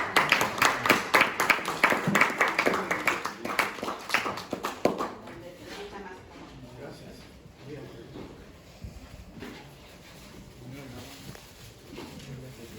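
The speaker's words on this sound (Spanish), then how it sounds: "Recibámoslo con un fuerte aplauso." Applause from a conference audience welcoming a speaker, loud sharp clapping for about five seconds that dies away into quiet room noise with faint voices.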